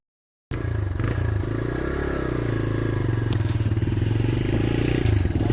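A motorcycle riding through fields toward a camp: a steady engine drone with a rhythmic pulse and road clatter, close and continuous after a brief silent start.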